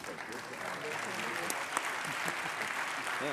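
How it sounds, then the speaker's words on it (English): Sustained applause from the audience at the ALDE Congress 2022 closing ceremony fills a large hall: steady, even clapping from a sizeable crowd throughout, heard from some distance. "So a round of applause, please, for the ALDE team."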